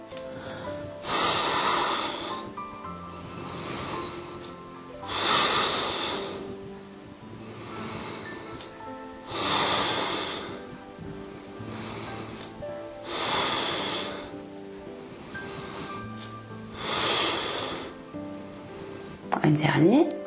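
Slow, deep yoga breaths during a gentle joint-care session, close and clear, with about five steady cycles of airy inhales and exhales spaced a few seconds apart.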